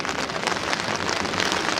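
Rain falling outdoors at an open-air graduation ceremony, a dense, even hiss of drops pattering on surfaces, loud and close with no pauses.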